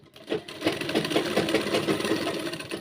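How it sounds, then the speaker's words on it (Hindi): Up close, a sewing machine stitches a kanchali blouse in a short, even burst, its rapid regular needle thumps humming along steadily. "और अब हम यहाँ से सिलाई लगा देंगे"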